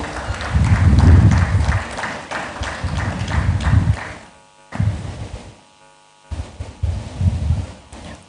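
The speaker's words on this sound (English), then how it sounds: "A round of applause as he joins us on stage." An audience at a compliance summit applauds as a panelist from a blockchain association steps onto the stage, in loud bursts of clapping broken by short pauses.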